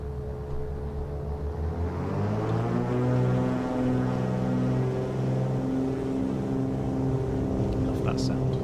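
A Cessna 414 twin piston engine in Microsoft Flight Simulator, starting up and settling into a steady loud droning hum with rising harmonic tones, continuous throughout.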